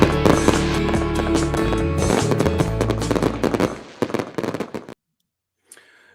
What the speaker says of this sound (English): the fireworks burst with enthusiasm into the night sky